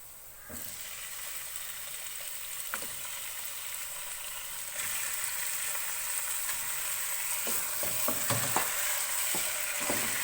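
A green hariyali masala for chicken curry is stirred in a pan over a medium flame. A constant sizzle grows louder midway, and a few spoon scrapes and clinks stand out toward the end.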